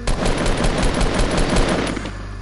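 Rapid automatic gunfire in the video game Fortnite, a loud, close, steady burst of repeated shots for about two seconds, then stopping, no talking.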